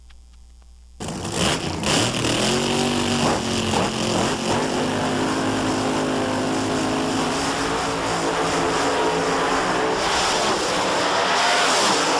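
Top eliminator drag racing cars at Carlsbad Raceway near San Diego, a loud sustained engine roar bursting in after a second of quiet and holding steady at full volume with shifting engine tones throughout.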